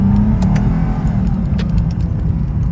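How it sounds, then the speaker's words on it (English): Lexus IS with an F Sport intake accelerating hard, a loud, steady engine roar and intake growl held close throughout with no talking. "I love that F Sport intake sound."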